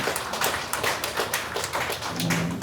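A crowd at a political party event in Jeju applauds with dense, rapid clapping that holds steady for a few seconds, fairly loud and close.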